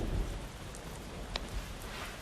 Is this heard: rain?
yes